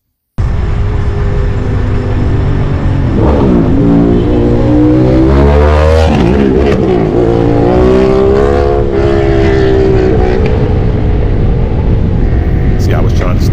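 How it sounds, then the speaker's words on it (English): A loud Ducati motorcycle engine roars close by, its pitch sweeping up and down as it approaches and passes, with rushing road noise throughout. "Is that a motorcycle here coming?"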